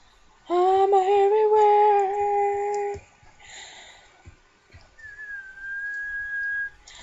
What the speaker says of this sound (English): I heard you whistling